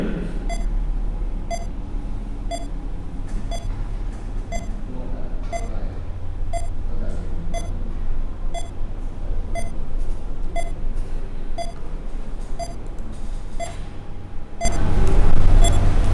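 A buzzer on an IoT humidity-monitoring project beeps in a steady, evenly spaced series of short tones over a constant background hum, with a brief louder rumble near the end.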